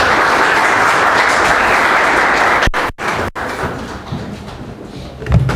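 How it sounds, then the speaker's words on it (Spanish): Loud applause from a church congregation at a Sunday service in Paraguay, a dense steady wash of many clapping hands that breaks off abruptly partway through, leaving quieter room noise and a few stray sounds. "Fuerte aplauso"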